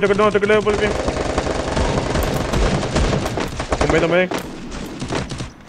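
Rapid automatic gunfire in a competitive 4v4 shooter video game, loud sustained bursts with short pauses, while players talk excitedly over it.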